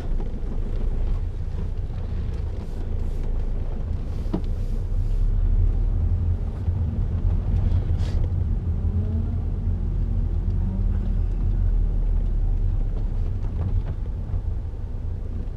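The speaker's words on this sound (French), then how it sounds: "Donc à froid, le moteur est pas trop sonore," Ford Focus C-Max 1.8 TDCi 115 hp diesel from 2007, engine still cold, droning steadily as a low rumble throughout the drive, heard from inside the cabin with road and wind noise and no talking.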